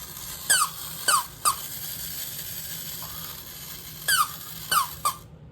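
Wind-up toy squeaking as it moves, with a bottle part bobbing up and down: high, sharp squeaks in uneven pairs and triples, separated by short pauses, close by, over a faint background hum.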